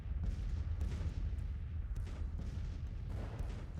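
Civil War artillery in the Grand Tactician strategy game rumbles as a continuous low, distant roll of overlapping booms, steady and unbroken, with no talk.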